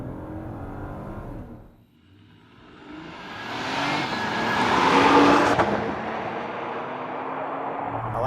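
A 2025 Acura MDX Type S floored from a roll in comfort mode, engine note dipping then swelling into a strong rising roar that peaks and holds, heard from inside the cabin without talk.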